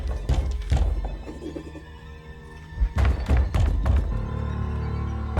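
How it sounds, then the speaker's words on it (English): Heavy thuds of someone banging on a cellar door in the horror game Adam vs Evil, several loud knocks in two bursts with a rumbling game ambience between them. "Someone's banging at the cellar door and won't stop."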